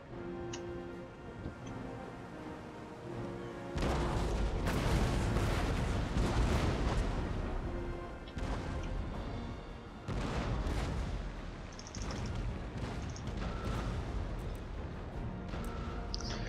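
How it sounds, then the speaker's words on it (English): Ship cannons fire in the video game Empire Total War, booming in a rolling barrage of heavy, overlapping blasts that surge loudly for several seconds, fade, and then swell again, with scattered shots and ticking effects between volleys. "Their front cannons do shoot quite a lot."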